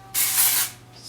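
Hair texture spray hisses onto hair in one sustained burst, close and fairly loud, followed by a brief softer spritz.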